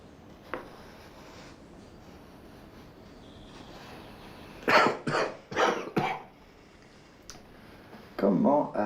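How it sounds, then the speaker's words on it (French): Several sharp coughs come in a quick cluster, then another burst after a pause, loud and close against a quiet, hissy room. "Comment arrêter cette toux?"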